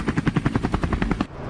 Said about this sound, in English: The helicopter presses on to the post-harvest field.